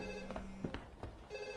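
A telephone rings in an office setting, a steady electronic bell tone that sounds, pauses amid brief thuds and movement, then resumes, fairly close and clear with no talk over it.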